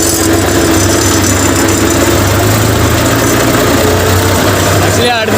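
A tractor engine drones steadily and loudly throughout, a continuous low rumble with vibration heard up close from the driver's seat on a village farm, with no change in pace.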